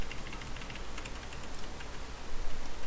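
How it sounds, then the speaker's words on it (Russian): Quiet, fast clicking of keys on a computer keyboard during a gaming session. Soft, irregular taps run steadily against a hissy background with no speech. "надо блин на клавиатуру начать нажимать"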